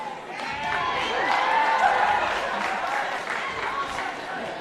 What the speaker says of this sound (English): if they do something good they can clap for that